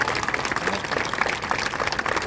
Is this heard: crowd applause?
yes